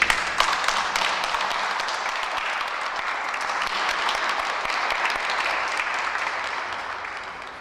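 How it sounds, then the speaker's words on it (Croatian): Wedding guests clap for the newly married couple, a sustained, even roar of many hands applauding together that gradually tapers toward the end. "A mi ćemo pljeskati ovoj ljubavi."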